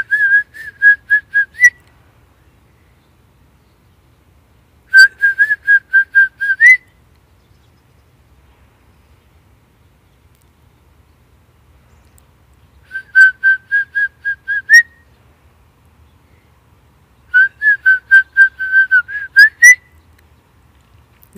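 A person whistles in imitation of a red-headed finch, giving four separate bursts of short, clear, rapidly repeated notes, each burst a couple of seconds long with quiet gaps between, heard alone and fairly loud.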